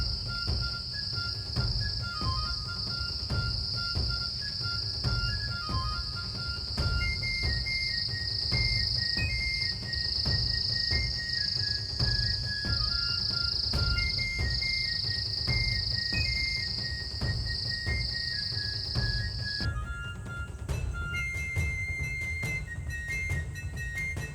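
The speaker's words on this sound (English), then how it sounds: "Back in the forest, my friends, our favorite rainforest." Steady high insect drone, like cicadas or crickets, fills a rainforest, with scattered chirps and bird calls over a low ambient rumble before the drone cuts off near the end.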